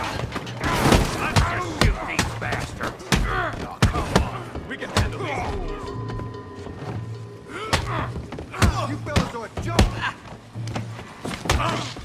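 A Red Dead Redemption 2 shootout, with repeated sharp gunshots and thuds punctuating a busy mix of background game sound and music, loud and close throughout.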